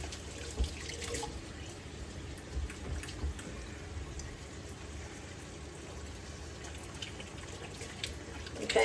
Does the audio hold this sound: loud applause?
no